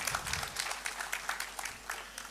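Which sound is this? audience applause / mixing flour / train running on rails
audience applause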